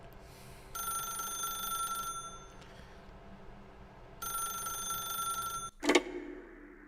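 A telephone rings in The Stanley Parable video game: two bursts of bright, trilling electronic bell, each lasting over a second with a short pause between, then a sharp clatter as the ringing stops.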